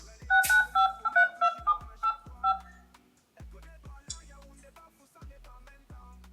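Telephone number being dialed, a quick run of about a dozen keypad tones in an uneven rhythm, fairly loud and close, followed by quieter clicks and handling noises with no talk.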